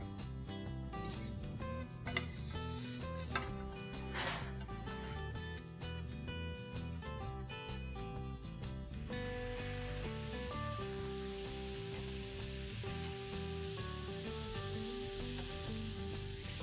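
Tomatoes grilling on a hot grill pan, a steady close sizzle with scraping and handling noises, the hiss swelling louder in the second half; no one talks.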